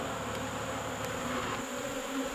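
Honey bees fly around a newly installed nuc hive, a steady close buzzing hum with overlapping wingbeats that stays even and moderately quiet throughout.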